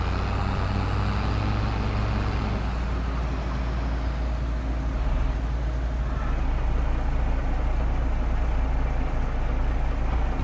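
A combine harvester running in Farming Simulator 22 gives a steady, loud, low engine drone with a mechanical rumble that holds unbroken from start to finish, with no voices.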